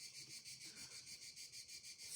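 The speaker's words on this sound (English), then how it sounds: "Oh, the whole family of crickets." A family of crickets chirps indoors. Faint, evenly spaced pulses of trilling repeat in a steady rhythm, with no talking.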